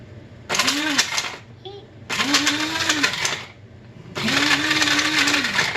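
A blender grinding chocolate and almonds in three loud bursts, its motor pitch rising as each run starts, with short pauses between them and a voice talking in the gaps.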